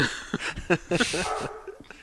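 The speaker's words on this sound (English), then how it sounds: "dogs are barking." Dogs bark nearby in a run of short, sharp yips and barks mixed with whimpering and breathing.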